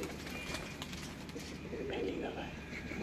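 Pigeons coo from a rooftop loft, soft and fairly close, blending under people talking nearby.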